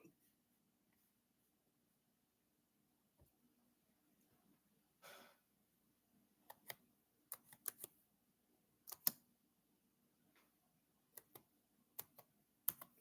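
Scattered keyboard taps and clicks, single presses and short bursts with pauses between, quiet and close in an otherwise near-silent room, as a phone number is typed.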